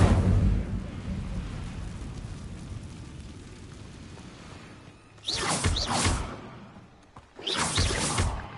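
Incendio fire spell in the video game Hogwarts Legacy, a fading rushing rumble followed by two loud, bright whooshing bursts of flame.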